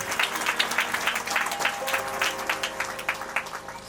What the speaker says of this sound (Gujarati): તાળીઓના ગગડાથી આપણે વધાવી દઈશું એમને.